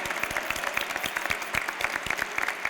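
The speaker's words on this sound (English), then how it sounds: "You deserve a big applause than that." An audience at a ribbon-cutting for a new technical operations center at Bush Intercontinental Airport applauds the employees, a lively crowd clapping with sharp, distinct individual claps in a brisk irregular patter at moderate volume.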